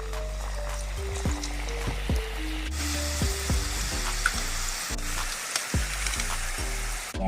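Shankarpali dough pieces dropped into hot oil for a traditional Maharashtrian sweet, a loud steady sizzle and bubbling that swells as more pieces go in, with faint clinks of a utensil underneath.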